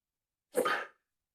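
A single sharp sneeze bursts out close to the microphone, short and forceful, surrounded by silence.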